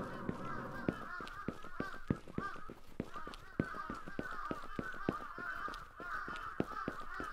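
A flock of geese honks steadily in a video game, with many overlapping loud calls forming a dense, continuous chorus throughout.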